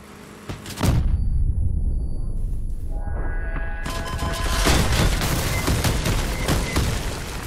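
Vehicle weapons, including a heavy cannon and small turrets, fire in the Crossout combat game: a loud blast opens, a short lull follows, then sustained dense gunfire and explosions roar on without pause.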